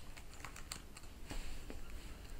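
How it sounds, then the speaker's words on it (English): Close keyboard typing as text is entered for a video-editing title, a quick irregular run of light key clicks at low level, with no speech. "we'll type in our text"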